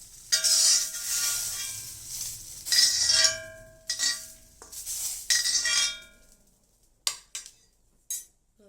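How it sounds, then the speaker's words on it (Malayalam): Sautéed okra gets scooped from an iron pan into another vessel, with a few loud metallic scrapes and clanks of a spoon against cookware, then sparse light clinks as things settle, no voices. "ഇത് നമുക്ക് വേറെ പാത്രത്തിലേക്ക് മാറ്റി വെക്കാം"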